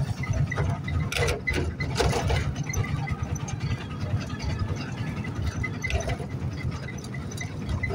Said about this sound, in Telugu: ఎందుకంటే ఈ బండి సౌండ్ ఇస్తుంది కాబట్టి.